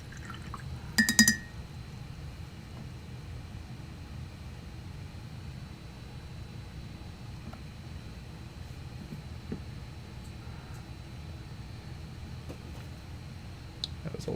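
Water trickles steadily for a long stretch with a clear glass clink early on, a faint ongoing liquid wash with small drips, quiet and close.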